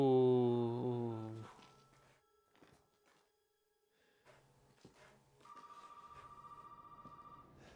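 A phone rings in the Resident Evil VII video game, a loud, harmonic-rich electronic ring that cuts off after about a second, followed by faint clicks and thuds and then a quieter repeating tone.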